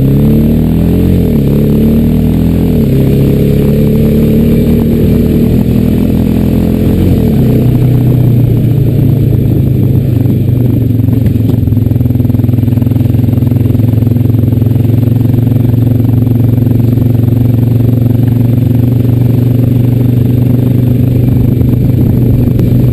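A Honda Rancher 420AT ATV rides loud and close along the dusty Watkins Trail. Its engine note drops after a shift early on, then holds a steady, buzzing cruise.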